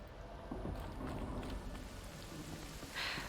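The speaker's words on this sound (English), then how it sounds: "Rain." Rain falls in the game Horizon, a faint continuous patter with a soft splash near the end, no talking over it.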